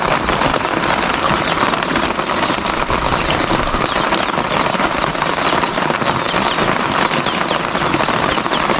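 Steady heavy rain pours down without a break, a dense broadband hiss of drops hitting surfaces, loud and close.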